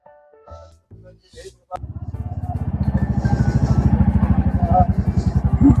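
A motorcycle engine starts after a few brief knocks and settles into a steady, close, pulsing idle and run outside a temple, loud and continuous to the end.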